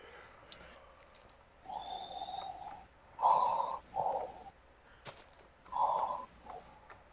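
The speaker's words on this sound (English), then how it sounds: "I hear breathing." Heavy, slow breaths audible on a Minecraft live stream: several loud wheezy inhales and exhales, each lasting about half a second, separated by quiet pauses, fairly close.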